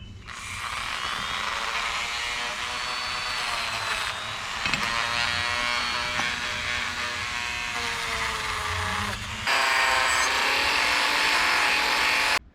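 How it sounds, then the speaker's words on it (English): A Dremel rotary tool spinning a brass wire brush against a dirty carburetor gasket from a 1962 Ford C750 cabover: a close, loud high-pitched whine that shifts pitch under load, with brief breaks and a harsher stretch near the end. "I'm gonna try a brass brush on the end of this Dremel tool"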